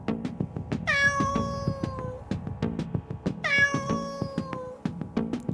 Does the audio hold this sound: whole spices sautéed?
no